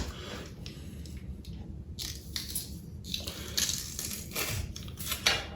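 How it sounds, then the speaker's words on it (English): Repeated squishing, crunching presses of garlic cloves through a small handheld garlic mincer, close up, with metallic clicks and a few louder squeezes near the end. "We're going to run them through our mincer"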